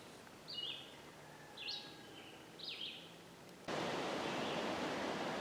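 Birds in the woods beside a felled 20-foot poplar give three separate bright, sweeping chirps at even intervals over quiet background, before a loud, steady hiss of noise takes over.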